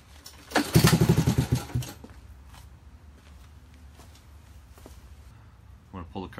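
Honda ATC 110 three-wheeler with a dirty carburetor sputtering to life in a short burst of rapid engine pulses, then fading out as it dies, followed by quieter shuffling and handling noises nearby.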